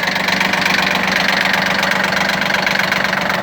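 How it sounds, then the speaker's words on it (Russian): Japanese Shibaura P17F 17 hp mini tractor engine idling in neutral, a steady close mechanical chug with an even rapid pulse and a light knocking tick, unbroken and with no voices. "Работает двигатель ровно, четко, без лишних шумов каких-то."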